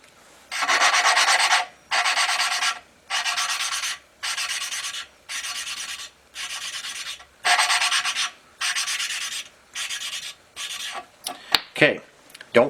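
A hand-turned valve seat cutter grinds against the seats of a Willys L-head engine, making about ten evenly spaced rasping strokes separated by brief pauses, followed by a few clicks and knocks.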